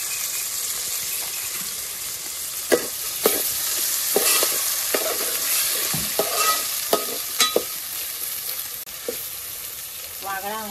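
Chopped tomato tossed into a hot frying pan in a Konkani village kitchen, bubbling and sizzling steadily while a spoon scrapes and stirs in several sharp, distinct strokes, close by with no talking.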